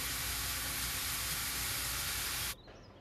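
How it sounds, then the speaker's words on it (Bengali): Garlic, onion and dried chili fry in olive oil with a loud, steady, hissing sizzle that cuts off abruptly to a much quieter simmer. "জলপাইয়ের তেলে ভাজা"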